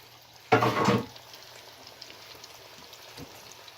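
Gluten-free cod nuggets drop into hot oil with a loud burst of frying lasting about half a second, then settle into a faint, quiet bubbling.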